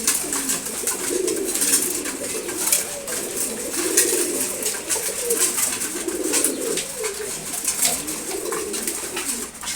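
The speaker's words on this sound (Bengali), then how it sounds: "কবুতরগুলোকে খাবার দিলাম। এখন দেখেন খাবার খাচ্ছে" Pigeons at their morning feed, a flock cooing in overlapping soft, rolling calls that repeat steadily, close by, with scattered pecking and rustling around them.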